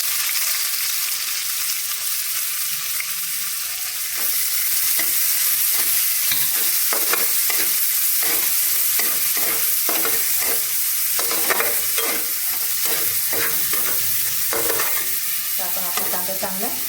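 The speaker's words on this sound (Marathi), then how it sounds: "आपण आपला कांदा चांगला परतून घेऊया" Onion sautés in a pan with cumin seeds and peanuts, a constant sizzle under repeated scraping strokes from a spoon, close and fairly loud with no talking.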